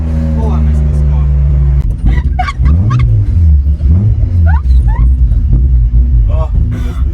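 A project car being revived creeps along with brake and throttle applied together, its engine a continuous low rumble under loud, animated voices talking over it.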